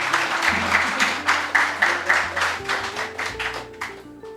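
An audience at a student debate competition applauds a candidate's introduction, with steady massed clapping and rhythmic pulses of claps over music underneath, fading toward the end.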